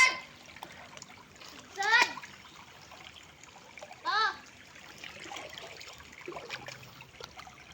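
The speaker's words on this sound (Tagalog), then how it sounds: "Dito namin hinugasan sa aming sapa-sapa." Water splashes in a small stream as freshly harvested ginger is washed, with two distinct splashing bursts against a steady trickle and faint voices nearby.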